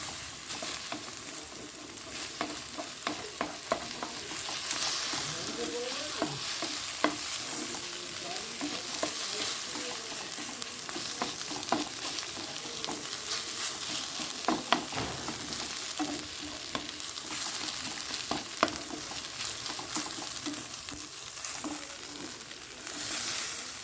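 An egg fries in a pan at home during a Kali Puja get-together, with a steady sizzle under repeated scraping and stirring clicks for the whole stretch and no talk.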